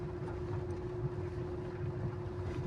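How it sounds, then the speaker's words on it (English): A steady engine drone with a constant hum and rumbling low noise, like a vehicle driving over an uneven road, with no talking. "I'm driving along a rough road."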